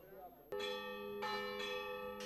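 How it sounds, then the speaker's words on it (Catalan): Church bells of Santa Maria d'Aiguafreda ring out for the village's summer festa major on 15 August, sharp struck tones with long sustained ringing that repeat every second or so after a faint opening, loud and near. "Com cada 15 d'agost, les seves campanes repiquen en honor a la festa major d'estiu del poble."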